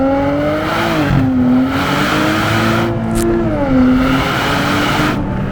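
Nissan Z sports car accelerating at full throttle on a mountain road, heard from inside: a loud, rising engine note climbing through the revs, dipping briefly at a gear shift, then pulling hard again.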